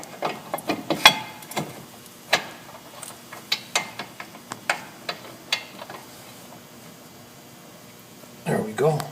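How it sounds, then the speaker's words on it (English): Metallic clicks and scrapes as a bolt is worked into the brake caliper bracket of a 2005 Chevy Avalanche, a string of sharp irregular taps and rattles close by, ending in a brief rustle. "I'm going to slide the bolt in. Might want to move it around a little bit to get the bolt to catch."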